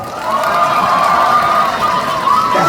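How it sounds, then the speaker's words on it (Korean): Outdoor crowd at a tea bowl festival concert in Mungyeong claps and cheers during a singer's celebratory performance, a dense continuous roar of applause and voices throughout. "자 박수 주세요"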